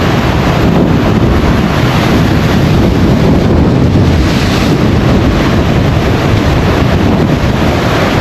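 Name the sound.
rough sea waves and wind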